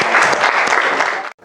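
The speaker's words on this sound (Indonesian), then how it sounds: "Berikan tepuk tangan." A classroom of students claps together, a dense burst of applause close by that stops abruptly after about a second and a half.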